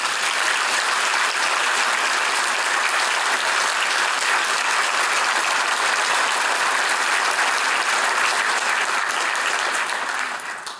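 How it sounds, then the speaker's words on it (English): Sustained audience applause fills the room, many hands clapping in a dense, even roar that stays loud and steady before tapering off right at the end, with no voices over it. "you deserve a round of applause"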